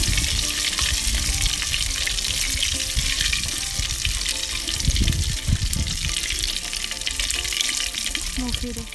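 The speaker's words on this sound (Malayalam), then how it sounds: "ഇത് നന്നായിട്ട് നെയ്ക്കകത്ത് മൂപ്പിക്കണം." Small pieces of lemon peel fry in ghee in a mud pot over a wood fire for biryani, a loud continuous close sizzle with occasional stirring clatter, steady throughout.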